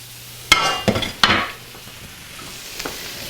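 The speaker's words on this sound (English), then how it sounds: "it's a good time to add all my veggies" Vegetables dropped into hot pan drippings, giving a few sharp clattering stirs and scrapes followed by a soft sizzle of frying, close and fairly quiet in a home kitchen.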